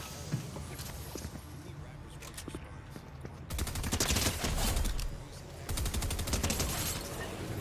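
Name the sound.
gunfire in a video game, headshots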